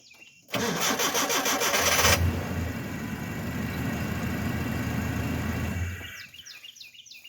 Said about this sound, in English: come around and start the truck, and it should fire right up